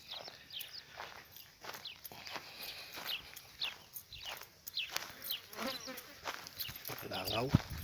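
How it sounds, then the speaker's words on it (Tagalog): Flies buzz in repeated close passes around someone walking through the desert, rising and fading near the listener, with footsteps and some background talk mixed in. "Kahit nasa gitna ka ng disyerto, langaw. Ayan guys, malangaw talaga."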